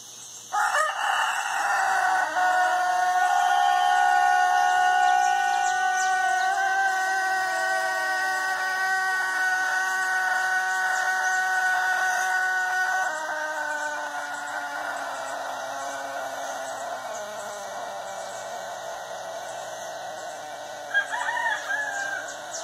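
A rooster crows loudly and repeatedly in long drawn-out calls, close by, with no talking.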